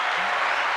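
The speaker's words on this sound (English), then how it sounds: "Can we get a round of applause?" Audience applause from a comedy show crowd, a dense steady patter of many hands clapping throughout, loud and close with a faint murmur underneath.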